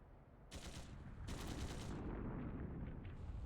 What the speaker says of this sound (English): Gunshots from the next district!